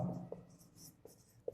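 Pen or pencil strokes scratch across paper while a maths solution is written out, a few soft scribbles with three brief taps, close and quiet with no talking.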